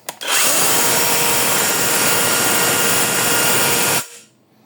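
A Tex.AC TAOE-S6 cordless chainsaw revs up after a short click and runs at a loud, steady high whine for about four seconds, then stops abruptly and leaves faint room noise.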